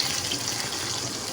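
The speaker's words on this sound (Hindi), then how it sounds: "बिल्कुल ज़रा सा मैंने इसमें पानी ऐड किया है।" Water being poured into a pan of chicken liver masala, a steady rushing splash that stays even and moderately loud throughout, with no talking over it.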